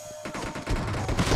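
Kar98 sniper rifle gunfire in a video game, a burst of loud, close shots and crackling impacts building over about a second.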